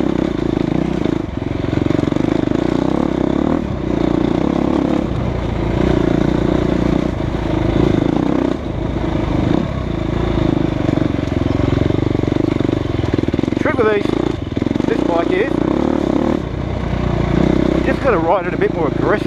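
Husqvarna dirt bike, an FE350 or WR300, ridden on hard-pack trails, its engine droning loudly and continuously with rises and dips in revs, while a rider's voice talks over it and wind buffets the microphone.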